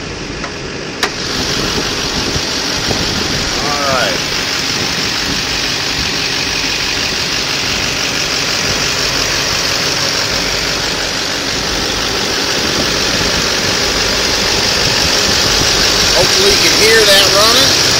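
A 2009 Chevrolet Duramax diesel engine idles steadily under an open hood, a constant rumbling clatter that stays even throughout, with a voice talking faintly over it.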